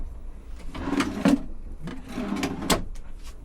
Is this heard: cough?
no